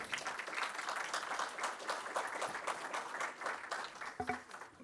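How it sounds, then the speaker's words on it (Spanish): An audience applauding, a steady dense patter of many hands clapping at moderate distance for several seconds, with a brief faint sound near the end. "Recibámoslo con un fuerte aplauso."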